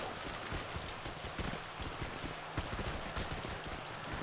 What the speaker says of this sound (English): We're starting in the rain.